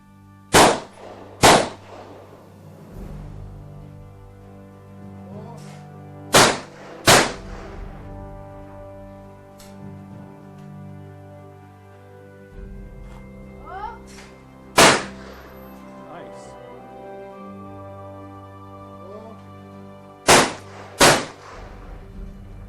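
Loud shotgun blasts from Italian Fausti shotguns fired at clay targets outdoors, about seven sharp reports in pairs and singles spread over the stretch, with quieter ambience and faint voices between shots.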